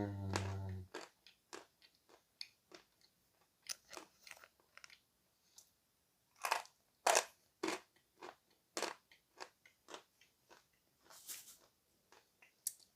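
Crunching of assorted Bashkir and Crimean edible clays, a long run of crisp, dry bites and crackles coming in irregular bursts, close up with no talking, some crunches noticeably louder than others.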